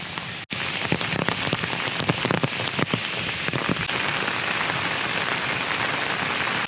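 Steady, loud rain pattering on a surface, close and continuous with dense drop hits and no voices, filling the whole stretch.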